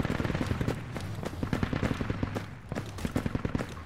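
Rapid bursts of gunfire from the military shooter video game Project Reality crackle continuously, with dense automatic fire and a few heavier thumps throughout.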